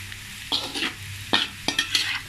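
Onions for shrimp paste fried rice sizzle in a pan while a utensil stirs and scrapes in several distinct strokes, close and clear, with no talking.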